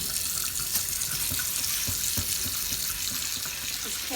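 A cast iron pan scrubbed with soap under a running tap, water splashing steadily into the sink with short scraping and knocking sounds from the pan, close and continuous.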